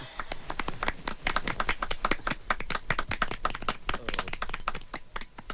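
An audience claps in dense, sustained applause at a Marathi stage gathering celebrating tamasha folk theatre, with rapid overlapping claps filling the scene at a steady level throughout.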